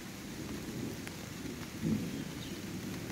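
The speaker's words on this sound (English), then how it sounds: "I don't know if y'all can hear that thunder." Rain patters steadily on a rainfly tarp at night while a low rumble of thunder rolls underneath, with one slightly louder swell partway through. The sound is continuous and fairly faint, with no voices.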